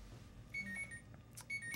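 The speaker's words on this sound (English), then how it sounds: "Just heard the alarm." A small alarm clock beeps faintly indoors in short high repeated bursts, quiet and a little distant, with no talking over it.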